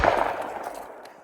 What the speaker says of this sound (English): That's a round going through and just shredding that into coleslaw. This is the 357 Magnum.